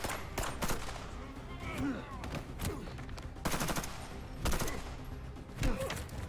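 Gunfire in a fan-made Red Hood live-action series, several sharp bursts of shots scattered among clattering action sounds, fairly quiet overall with occasional voices.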